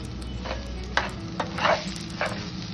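Fenugreek powder and asafoetida are stirred into a cauliflower curry, giving a soft continuous sizzle with a few brief scraping strokes of a spoon, close by and without speech.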